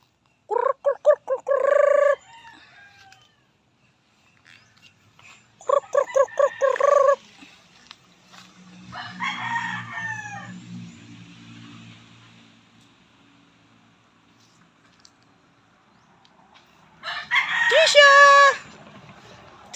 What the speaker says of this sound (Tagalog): Pinalabas po muna namin yung mga manok para makapag gala-gala sila